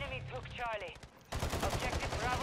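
Rapid bursts of gunfire from a Lockwood 680 in Modern Warfare III, loud and close, ringing out after a short stretch of quieter game sound.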